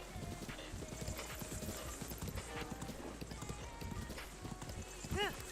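Horse hooves clip-clop in a rapid, steady rhythm in the video game Zelda Breath of the Wild, with a short neigh near the end, heard under a person talking.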